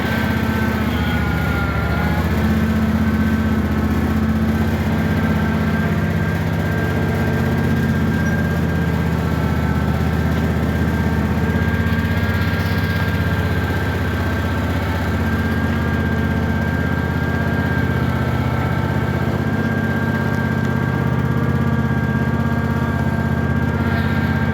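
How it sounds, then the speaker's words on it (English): A Yanmar diesel engine on a Cub Cadet mower idles steadily after a cold start, a close, loud, even low rumble with a constant hum and no change in pace. "Finally went down to an idle."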